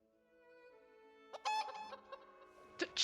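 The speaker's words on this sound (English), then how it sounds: "Chickens! Look at the little dudes." Chickens in the video game Elder Scrolls Online cluck in short bursts, several close squawks and clucks over a soft sustained musical drone.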